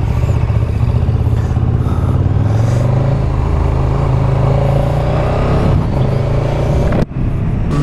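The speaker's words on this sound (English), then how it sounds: "The lovely grumbling growl from Sean's KTM there" A KTM motorcycle engine growls steadily and loudly while riding, a continuous low, grumbling drone with slight shifts in pitch, alone with no talk over it until a brief dip near the end.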